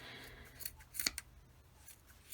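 Scissors snip off excess material at the heel of a handmade Christmas gnome, a few quiet, close cuts with crisp metallic clicks and a brief louder snip in the middle.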